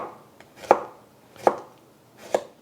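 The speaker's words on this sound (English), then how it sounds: "So here I'm just going to slice this up" Knife slicing garlic into slivers on a cutting board, three crisp evenly spaced chops close by, each with a faint soft slice just before it, in a quiet room.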